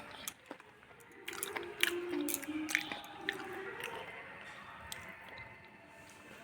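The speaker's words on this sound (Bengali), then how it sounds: "সো এবার ফার্স্ট বাইটটা নেব, বেগুন দিয়ে লঙ্কা দিয়ে মেখে চটকে পটকে মেখেছি।" A bite of rice mashed by hand with eggplant and chili being eaten: close, soft wet squishing and chewing with a few light clicks, quiet and unaccompanied by talk.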